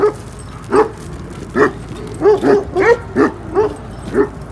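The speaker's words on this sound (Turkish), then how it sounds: "ilk önce şu köpeğimizi bir kazasız belasız Faruk kardeşimizle bir yere bağlayalım" A dog on a farm barks and yips in a quick series of about ten sharp, close, loud barks with short gaps between them, some sounding whiny.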